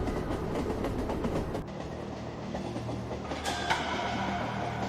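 A night passenger train runs through a long dark tunnel with a continuous loud rolling roar and faint rhythmic wheel clatter, steady throughout and with no voices.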